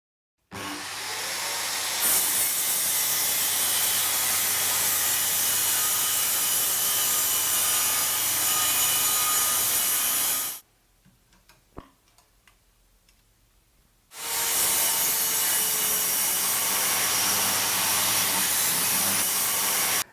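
A Bosch GKS 66 X Professional handheld 6-inch circular saw without a brake function runs loudly, then its blade winds down over several seconds before near silence with faint ticks, and the saw starts up again for a long, steady run.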